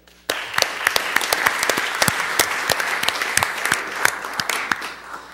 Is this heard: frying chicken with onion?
no